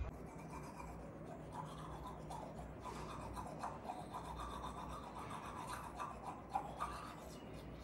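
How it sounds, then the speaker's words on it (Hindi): Steady close-up scrubbing of a toothbrush during morning teeth brushing, a continuous rasping rub with small rhythmic strokes and slight tapping, heard alone without talk. "अभी मैं जा रही हूँ ब्रश करने"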